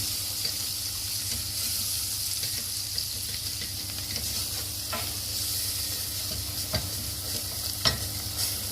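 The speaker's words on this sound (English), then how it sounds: "Give it a good stir." Turmeric being stirred into a frying marrow curry in a pan, with a steady, close sizzle and occasional soft knocks of the spoon against the pan.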